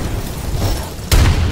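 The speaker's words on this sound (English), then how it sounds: "Throwing frag!" Frag grenade in Insurgency (2014) goes off with a sudden loud boom after a short quiet stretch, followed by a rumbling tail.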